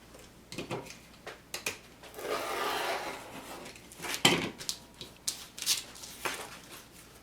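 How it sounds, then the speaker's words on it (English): Scissors cutting paper for a handmade book spine bookmark, a series of close, crisp snips and papery rustles, with a longer sliding cut partway through. "Now I'm going to take my scissors and just finish that."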